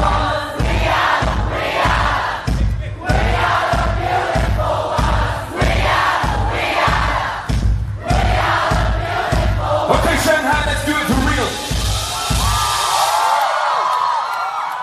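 A large concert crowd at a show in Shanghai sings along loudly during the encore, a massed chant with steady rhythmic pulses beneath it, close and sustained throughout.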